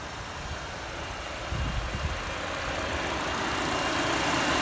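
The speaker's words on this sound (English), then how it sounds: "Hate how loud this engine is." A 2012 Chevrolet Cruze 1.8 engine idles steadily after an oil change, a low rumbling drone that grows slightly louder and rougher partway through; no talking.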